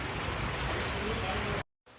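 Rain falls in a steady, dense hiss of drops on surfaces, continuous and fairly close before cutting out abruptly near the end and returning softly.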